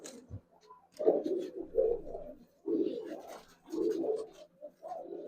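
Giribaz pigeons coo in a loft, with several rounded, throaty bursts arriving in uneven clusters close by and short quiet gaps between them.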